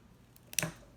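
Scissors snip through ribbon on a Christmas kitchen-cabinet decoration, one short close crisp cut against a quiet background.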